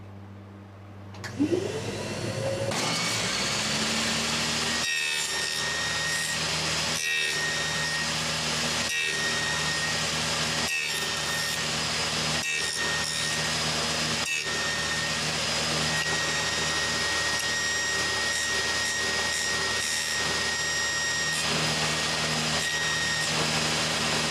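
A table saw with a box joint jig, run without dado blades, spins up and then drones steadily while cutting finger joints in wood, with several brief dips as each pass is made; loud, close, and without speech.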